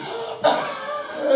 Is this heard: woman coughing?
yes